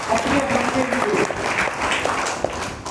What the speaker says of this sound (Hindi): हिमांशु के लिए एक बार फिर से जोरदार तालियां।